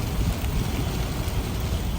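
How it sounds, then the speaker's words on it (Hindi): Heavy rain in Makkah pours down in a continuous dense roar of broadband noise with low rumbling, steady and close without any voices. "आप देख सकते हैं कि बारिश कितनी तेज़ है।"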